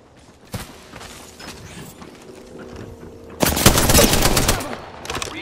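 Gunfire in the video game Apex Legends: scattered distant shots and mechanical clatter build into a loud, dense burst of sustained rapid fire in the second half, then fade, with no speech.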